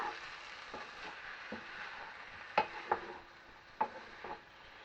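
A butternut squash mixture seasoned with pepper is stirred in a pan over a low continuous sizzle, with a few sharp utensil knocks against the pan.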